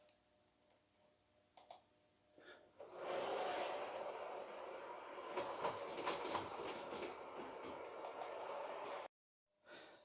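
A Class 56 model train runs along the main line through a double slip on a model railway layout, its steady running noise rising after a quiet start with light rhythmic clicks over the track, then cutting off briefly near the end.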